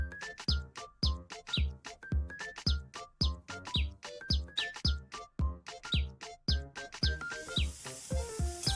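A blue wren chirps in a video game, a rapid series of short bright tweets repeating in quick rhythmic bursts, loud and close, with no talking.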